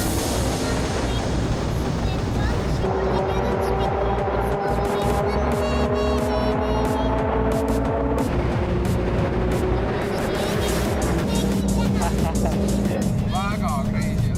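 A Nissan GT-R Nismo drives on a road in Japan, its engine droning steadily throughout with shifting tonal pitch, while people talk excitedly over it inside the car.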